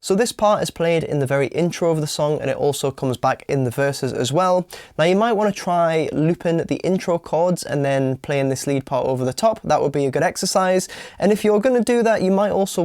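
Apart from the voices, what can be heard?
No distinct noise like a dog, phone or traffic.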